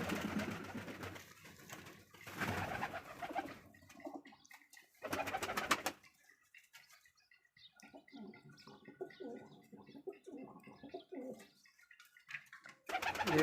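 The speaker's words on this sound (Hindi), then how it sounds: "ये कबूतर हमारा बाहर जा रहा है अभी" Domestic breed pigeons, kept alongside rabbits, coo in soft repeated rounds, close and fairly quiet, with brief bursts of louder wing or scuffling noise between the calls.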